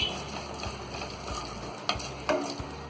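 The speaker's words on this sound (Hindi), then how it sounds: "इन सारी चीजों को हम हल्का सा भून लेंगे" Mustard seeds, cumin and kalonji frying lightly in a pan give a soft steady sizzle, with a few dull knocks and brief scraping stirs close by and no talk.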